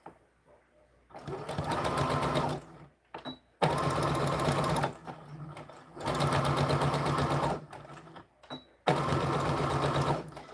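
A home sewing machine stitching pleats into a doll skirt, running in four steady, loud whirring bursts of a few seconds each, broken by short pauses and faint handling clicks.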